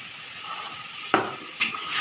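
Ginger paste with salt and turmeric being stirred in a frying pan, a soft steady sizzle with two sharp scrape-like clinks of the spoon against the pan.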